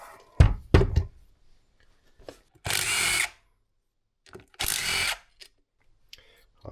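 Tools working on the engine crankcases of a Suzuki RM125 dirt bike: two sharp knocks followed by two short bursts from a power tool, with quiet gaps between them.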